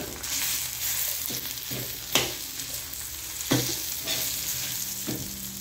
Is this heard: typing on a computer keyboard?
no